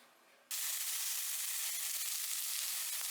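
Tofu pieces for Korean braised tofu hitting hot oil in a pan: a quiet moment, then a sudden loud, steady sizzle and crackle that holds without a break, close by and with no talking.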